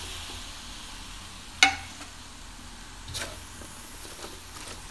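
Cauliflower and mixed vegetables for lumpiang hubad being stirred in a pan, with a soft, low sizzle underneath, one sharp utensil clack early on and a fainter scrape later, without any talking.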